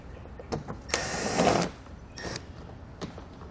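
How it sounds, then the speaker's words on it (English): Phillips head screws come out of a rear trim panel on a 2018 Jaguar F-Pace, heard as a close, whirring power driver burst lasting under a second, with shorter buzzes and clicks before and after. "We now need to remove 4 Phillips head screws along the back of our panel."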